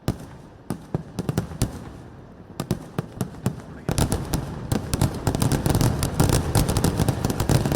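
Thrissur Pooram sample fireworks, a continuous run of sharp firecracker bangs, sparse and irregular at first, then a dense, louder barrage with a rumbling crowd-like roar underneath.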